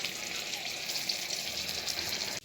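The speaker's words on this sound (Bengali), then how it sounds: "এইভাবে আমি সমস্ত লঙ্কাগুলোকে ব্যাটারে ডুবিয়ে ভেজে ফেলবো" Green chillies dipped in batter fry in hot oil, giving a steady, close sizzle with a dense crackle that runs unbroken and stops abruptly near the end.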